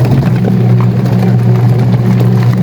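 A washing machine's timer motor runs with a steady, loud, low electrical hum that stays unbroken and even, with no voices over it.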